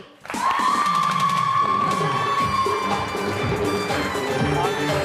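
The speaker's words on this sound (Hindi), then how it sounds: "आपकी बहुत सारी तालियों में उमैर लगाड़ी" A studio audience at a talk-show interview cheers and applauds loudly and steadily for a guest's entrance, with whoops over a sustained musical tone, continuing for several seconds.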